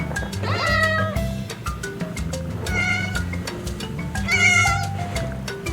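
A cat meows three times, each drawn-out, wavering cry standing out over a steady, repeating musical backing with no talking.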